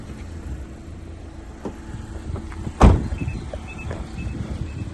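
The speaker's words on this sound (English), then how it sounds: "So I'll put the windows down so we get a full look, or a full convertible experience" Power windows on a 2021 Mazda MX-5 RF 2.0 SKYACTIV-G GT Sport give a short motor whir as they lower, followed by a sharp thud near the middle of the clip inside the quiet car.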